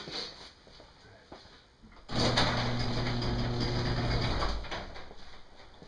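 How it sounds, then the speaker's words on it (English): A garage door rumbles open with a loud, steady mechanical drone lasting a couple of seconds, then fades, amid faint background noise. "Better go open up the garage door again, just a hair."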